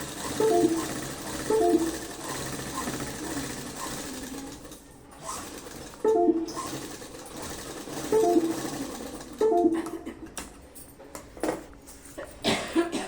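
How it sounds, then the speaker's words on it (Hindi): A domestic sewing machine stitches a salwar in several short bursts of rapid mechanical whirring, each start marked by a rising tone, with quiet gaps and rustling fabric handling in between, close up. "स्टार्टिंग में और लास्ट में डबल सिलाई लगानी है।"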